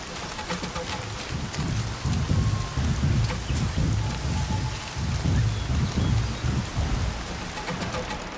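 Heavy rain pours steadily in the video game Horizon Forbidden West, a dense continuous hiss with low rumbling that may be thunder, and no pause across the stretch.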